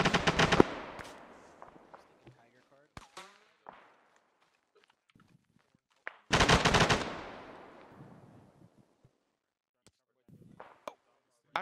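Sporadic gunfire in the military shooter Arma 3, with a long burst of automatic fire at the start, scattered single shots in between and a second heavy burst midway, loud and echoing. Faint talk is heard briefly.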